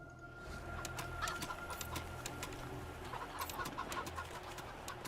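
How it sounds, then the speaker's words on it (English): An agitated chicken in the video game Wasteland 3 clucks in short repeated bursts over steady game ambience, moderately close, with no voices. "The chicken appears furious at its confinement."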